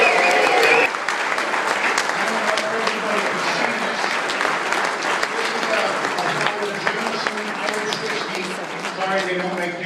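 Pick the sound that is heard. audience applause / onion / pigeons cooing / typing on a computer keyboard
audience applause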